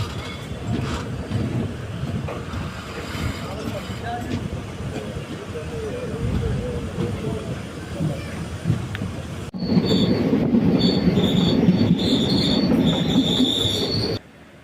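The Ernad Express rolling along rails in Kerala, a steady rumble with clattering wheels and squealing metal, growing louder and fuller partway through as the train runs on.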